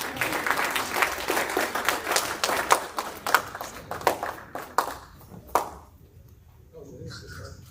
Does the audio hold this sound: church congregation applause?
yes